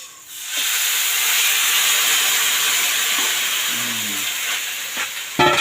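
Squid tipped into a hot pan and sautéed, giving a loud, steady steam-like hiss that starts suddenly and holds for several seconds, with a clatter at the end.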